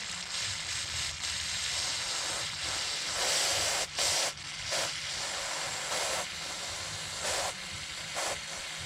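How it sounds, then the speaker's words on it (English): Aerosol brake cleaner sprayed into a spark-plug hole of a Miata's engine cylinder head, heard as a steady close hiss with several louder spray bursts over a constant low hum. "I'm gonna put a little brake clean in here and see what happens."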